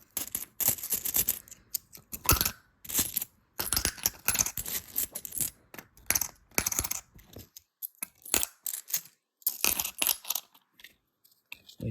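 A stack of pure nickel 2 franc coins is handled, producing bright metallic clinks and jingling in quick irregular bursts separated by short silences, close and clear with no talking.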